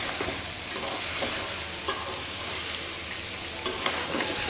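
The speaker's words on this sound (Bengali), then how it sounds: "আপনারা এটা দু এক মিনিট সুন্দরভাবে ভেজে নেবেন" Steady sizzle of goat meat frying in oil in a pan, close and full, with a few sharp scraping clicks from stirring now and then.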